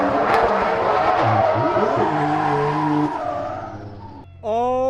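A race car engine revs hard and loud close by, with tire squeal and skidding as it pulls away from a wall, the revs dropping before a brief sharp rise at the end.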